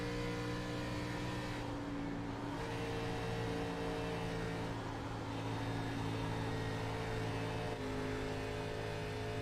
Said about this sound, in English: You can hear how much lower the RPMs are to the 31 car compared to that 63.